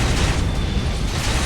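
Fire spell explosion in Octopath Traveler 0, a dense loud roaring burst of crackling noise that stays at full strength throughout the short moment.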